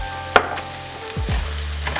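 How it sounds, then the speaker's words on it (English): Eggs and half a cup of onions sautéing in a pan over medium heat, a short steady sizzle with a sharp clink of a utensil and a few scraping stirs. "Saute those real quick with the eggs. I got the heat on medium."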